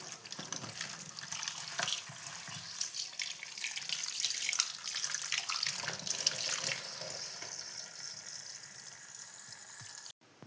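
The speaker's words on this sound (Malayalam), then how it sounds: "ചിക്കനൊക്കെ നമുക്ക് കഴുകിയെടുക്കാം." A kitchen tap runs steadily while chicken is washed under it for chicken curry, a continuous splashing stream with shifting gurgles that stops abruptly near the end.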